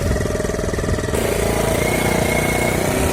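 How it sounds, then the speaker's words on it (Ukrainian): An MT Kozachok motorcycle crawls along in first gear over a bumpy forest track, its engine chugging steadily and fairly loud throughout, with no talk. "Так приходиться їхати помалесеньку на першій передачі."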